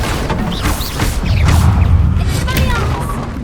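A Bombarda spell exploding in Hogwarts Legacy, a loud sustained rumbling blast with crashing debris and whooshing swirls filling the whole stretch, close and dense.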